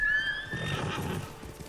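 A horse in the video game Ghost of Tsushima gives one clear, loud whinny that rises and trails off into a softer snort, alone with no talking.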